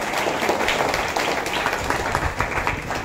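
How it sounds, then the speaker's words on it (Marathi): A school audience at a Guru Purnima celebration gives dense, steady applause that is loud and sustained throughout, with no talk over it. "जोरदार टाळ्या।"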